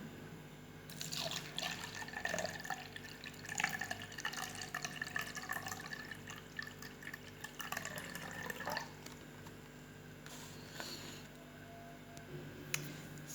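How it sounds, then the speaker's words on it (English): Water from a drinking glass is poured into a measuring glass, giving a steady liquid trickle and splash with small drips, close and moderately loud over a faint background hum, with no talking. "So now I will take this glass of water and I will pour it into this measuring glass."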